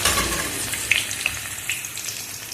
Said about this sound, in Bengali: পেঁয়াজটা একটু ভালো মতন ভাজাভাজি হবে।